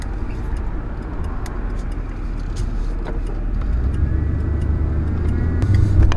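A steady engine drone and rumbling road noise inside a moving RV, growing gradually louder and heavier over several seconds as the vehicle picks up speed, with no talking.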